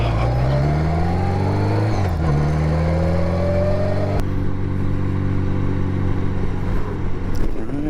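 A 1980 Honda Goldwing motorcycle pulls away and accelerates hard, its engine note climbing steadily, dropping at a gear change and rising again, loud and close throughout.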